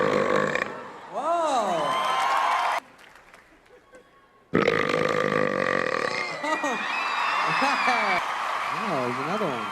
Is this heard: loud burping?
yes